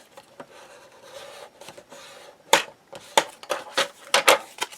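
Folded paper craft ephemera is burnished along a score line, a series of dry rubbing and scraping strokes that grow sharper and more rhythmic toward the end.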